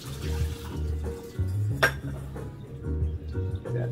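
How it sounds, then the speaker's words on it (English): Cooked instant rice noodles drained at a kitchen sink, with soft water trickling and low clinks and knocks of a pot or strainer, plus one sharp clatter midway, close and fairly quiet. "We're gonna drain our noodle."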